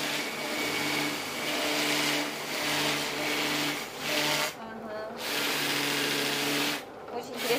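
A power sander works on wood in a workshop where a family makes children's furniture. A loud, steady motor whine with a buzzing hum runs almost continuously, dipping briefly twice as the tool eases off.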